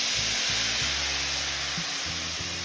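Milk poured into sugar in a hot pan sets off a loud, steady sizzle, with intermittent low scraping and stirring strokes underneath; no talking.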